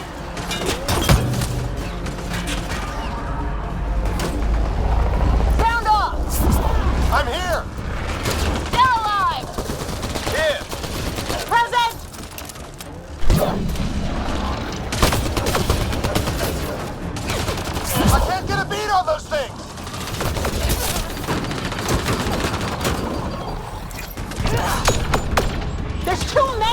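Sustained gunfire in a Mass Effect Andromeda battle: steady rattling automatic fire and scattered shots run throughout at high volume, with mechanical clanks and shouted voices mixed in.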